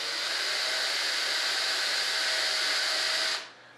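A small power drill bores little countersunk holes in an RC jet model of a B-1 Bomber, a steady high whine that runs close and continuous before cutting off abruptly near the end.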